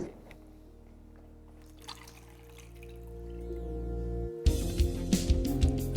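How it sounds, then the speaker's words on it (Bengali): Milk is poured into a simmering pan of methi malai paneer gravy; a soft bubbling simmer gives way to a louder, splashy rush of liquid in the last seconds. "এরপর যখনই দেখবেন এটা ভালোভাবে ফুটে গেছে তখন এখানে অ্যাড করে দিন দুধ"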